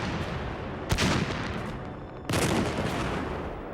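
Artillery and machine gun fire around the ruined Carpiquet airport during 1944 Canadian fighting in Normandy: two loud, sustained broadband bursts of gunfire about a second and a half apart over a constant rumbling background, with no voices.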